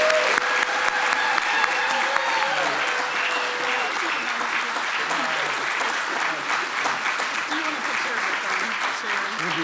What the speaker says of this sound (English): Please join me in a thunderous applause for Liz on this well-deserved honor.